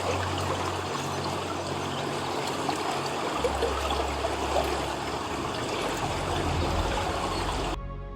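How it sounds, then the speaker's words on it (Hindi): Glacial meltwater from Iceland's Vatnajökull area flows in a steady, close rushing stream, with a deeper rumble swelling in the second half before cutting off at the end; no voices. "धरती पर बिखरी ये धाराएं बर्फ से पैगाम लाकर समुद्र तक पहुंचाती है।"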